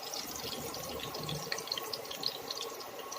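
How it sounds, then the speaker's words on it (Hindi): Green chilies fry in hot oil for sabudana chivda, a steady close sizzle with scattered crackles and pops throughout. "तो आप देख सकते हैं अभी मिर्च फ्राई हो रही है।"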